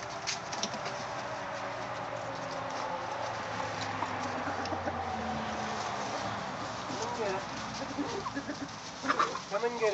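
Chickens cluck and squawk in a busy, continuous flock chatter while being fed cracked corn on a rural American farm, with scattered bird calls and light movement noises close by.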